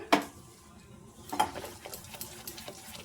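A spoon stirring a sukhdi flour mixture in a pan, making a few faint scrapes and light metallic clinks at irregular intervals in a quiet kitchen.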